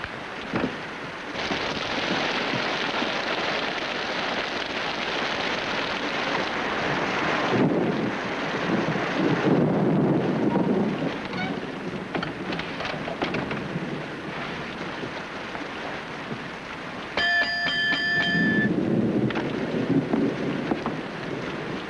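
Stormy night outside a closed seasonal lodge: steady roaring wind with surf-like rushing swells, deep rumbling gusts building twice, and a brief tonal ring midway, with no voices.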